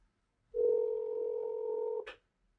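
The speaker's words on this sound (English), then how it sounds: "Let me get him on the phone and see what that would look like." A telephone dial tone sounds as a call is placed: one steady, clear, moderately quiet tone holds for about a second and a half, then cuts off with a brief click.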